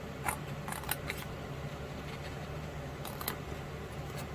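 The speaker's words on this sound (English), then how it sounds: "you're going to cut that little square out" Scissors snip a small square out of paper in a few faint, quick cuts near the start and again later, with low background hum between.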